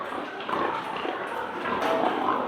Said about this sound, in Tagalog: Ito yung mga biik.